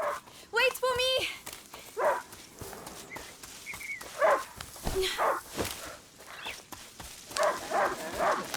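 Hunting dog in the video game A Plague Tale: Innocence, giving a few sharp barks and whimpers near the start, followed by game characters talking over faint footsteps and ambience.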